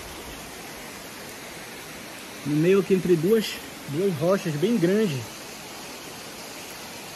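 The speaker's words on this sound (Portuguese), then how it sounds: "Eu acho que é tipo um rio ali pra trás." A river flows among large rocks, a steady, even rush heard close by throughout, with someone speaking over it for a few seconds in the middle.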